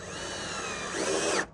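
A power drill drives a screw into a door frame, a steady whirring motor whine that rises briefly under load before cutting off, close and alone.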